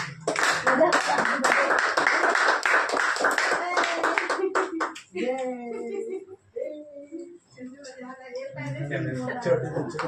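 A small group claps briskly after a birthday song at an indoor celebration, with a steady patter of hand claps for several seconds before voices take over and talk continues.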